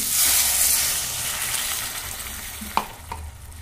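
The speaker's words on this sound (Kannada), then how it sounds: "ಇದು ಪಾಲಕ್ ನೀರು ಹಾಕ್ತೀನಿ." Blended spinach water hits a hot pan while making upma: a strong, hissing sizzle bursts out at once and slowly dies down, followed by a couple of sharp utensil clinks near the end, all close and without speech.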